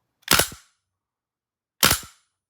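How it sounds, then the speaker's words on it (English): Two sharp, snappy mechanical cracks from an AR-15 airsoft gas blowback rifle with a steel chamber dry firing, about a second and a half apart, loud and close, with silence between. "Let's just dry fire it."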